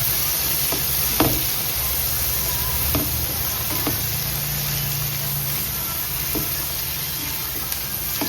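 Partly frozen hotdogs sizzle in a pan, a steady hiss of frying with scattered pops and occasional utensil scrapes, heard alone without talk.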